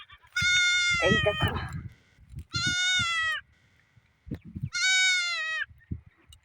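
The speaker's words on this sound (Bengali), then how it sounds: "ভাতের ফ্যান নিয়ে ছাগলকে দেওয়ার জন্য এই দেখো খাচ্ছে ছাগল" Goats bleat in a field while being fed rice starch water, three loud, drawn-out bleats separated by pauses, with some lower rustling and feeding noise between calls.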